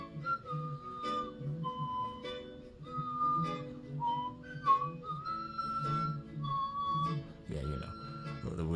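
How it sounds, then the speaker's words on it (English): Whistled melody during a Pokémon Pokopia gameplay session: a clear, sustained tune of several held and gliding notes running throughout, moderately close, with a soft voice and background game music beneath. "the whistle"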